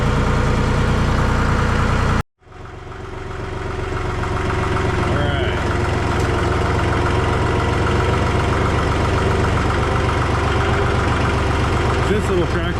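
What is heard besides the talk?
small tractor engine running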